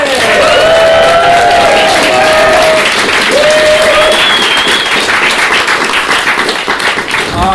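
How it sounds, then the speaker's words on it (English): Improv theatre crowd in Glasgow gives a big, steady round of applause and some cheering for a guest monologist, continuous close clapping throughout with a host speaking over the start. "Let's give a huge round of applause for our special guest monologist,"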